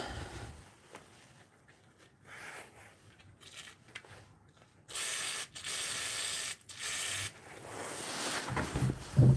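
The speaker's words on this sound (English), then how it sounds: "Should probably put some WD-40 on the right along here." Aerosol WD-40 lubricant sprayed onto an e-bike in several hissing bursts, the longest lasting about two seconds, close to the mic with quiet handling noise between sprays.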